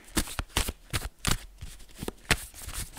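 Tarot cards being shuffled at a tabletop reading, in a series of crisp riffling bursts roughly every third of a second, close and fairly loud, with no speech over them.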